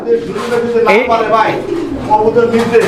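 German shorting pigeons coo repeatedly in a loft, their soft throaty calls overlapping with close, continuous talk from people nearby.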